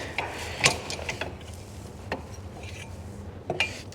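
Metal washers handled on snowmobile rails during a mountain snowmobile build, several light clinks and small metallic taps at irregular intervals, fairly faint against a quiet workshop background.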